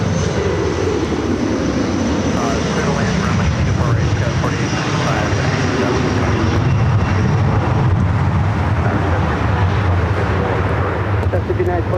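Airplane engines roar loud and steady as a plane lands at LAX airport, a broad continuous rumble that fills the whole stretch, with radio chatter audible underneath.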